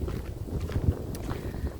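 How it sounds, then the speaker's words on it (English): Low, blustery wind rumbling against a microphone in uneven gusts, with a few thumping bursts and no speech. "it's really windy here"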